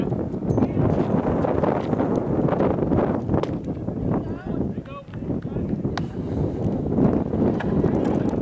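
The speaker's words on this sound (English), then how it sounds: "This wind, Lance, every game." Wind buffets the microphone at a high school baseball field, producing loud, continuous low rumbling and gusting that persists throughout while commentators talk over it.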